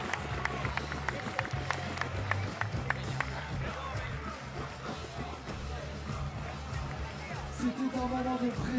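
A crowd at the FISE Montpellier parkour women's freestyle final applauds and cheers an athlete, a dense roar of clapping and voices with sharp claps early on, under a commentator's voice.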